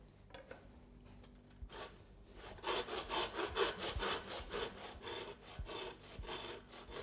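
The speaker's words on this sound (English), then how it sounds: "You'll hear as you're sawing, as you're getting close, the sound will change a little bit" A butcher's hand saw works through an aged rib of beef for cote de boeuf, starting with faint scraping and then settling into loud, rhythmic back-and-forth strokes close by.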